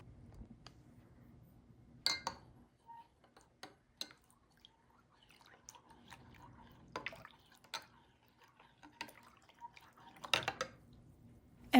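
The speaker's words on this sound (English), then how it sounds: "once you put your yeast in your water, you're going to give it a good stir" A spoon stirs yeast into warm water while making pizza dough, producing faint, scattered clinks and soft liquid drips at close range in a quiet room.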